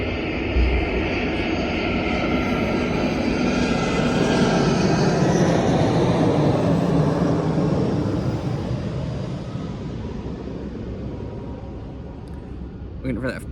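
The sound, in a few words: airplane flying overhead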